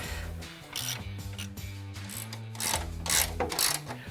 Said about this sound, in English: We're just gonna go ahead and snug these up now and then come back and torque them.